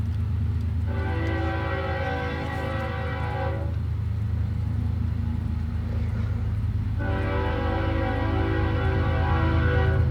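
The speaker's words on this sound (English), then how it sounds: "There's a train coming. Let's let the locomotives pass. We'll hear four horn honks." Freight train passing with locomotives sounding the horn: a loud, steady rumble of rolling cars underneath, with two long horn blasts that come near and stay strong, and no talking.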